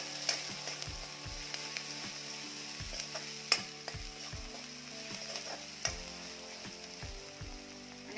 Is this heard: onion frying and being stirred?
yes